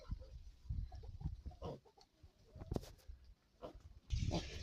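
A young pig grunts and snuffles close by in short irregular bursts, with rustling and scuffling between, and a louder snort near the end, in a village yard.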